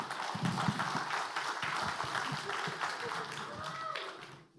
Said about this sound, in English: Can we give a round of applause to all the mothers?